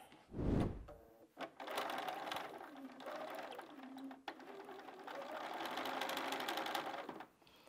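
A sewing machine stitching fabric strips for a quilted cushion, running in steady bursts of rapid mechanical whirring with short pauses and clicks between runs.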